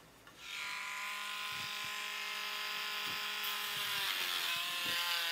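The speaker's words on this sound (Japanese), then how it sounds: "削っていきますね。" A bamboo flute's finger hole being shaved by hand to widen it, a steady close abrasive whirring scrape running continuously with faint tapping knocks underneath.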